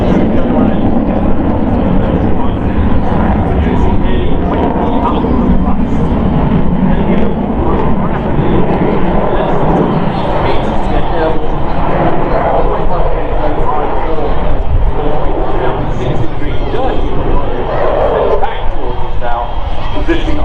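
A Boeing F/A-18 Super Hornet jet flies a display at the Farnborough airshow, a loud continuous roar heard under crowd noise and a commentator's voice.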